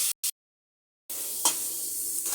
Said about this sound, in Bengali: মশলাগুলো দিয়ে দিলাম। নাড়াচাড়া করে সাঁতলিয়ে নেব আমি।